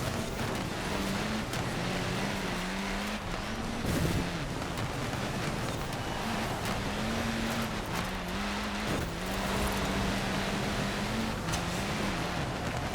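Car engine in Forza Horizon 4 during a snowy winter-event race, a steady droning note that rises and dips as the car slides sideways through drifts, with a constant rushing roar beneath it.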